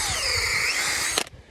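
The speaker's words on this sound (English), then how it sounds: "Now watch closely when I back out the drill." A power drill whirs steadily as it backs out of a freshly bored tap hole in a maple tree, a close mechanical whine that cuts off abruptly near the end.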